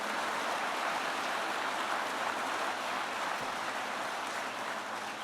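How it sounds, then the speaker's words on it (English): Sustained applause from a crowd at a political speech, a steady dense wash of clapping that continues at an even level throughout. "Let's get a round of applause for the great Secretary of Labor."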